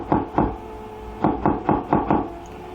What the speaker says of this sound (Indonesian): Suara ketukan pintu terdengar dari arah pintu depan.